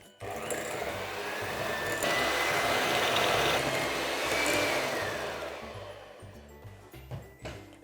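Electric mixer creaming butter and 150 grams of sugar, a steady motorised whir that holds loud and even for several seconds, rises slightly in pitch, then cuts off and leaves brief clattering.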